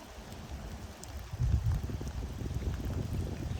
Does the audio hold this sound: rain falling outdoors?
yes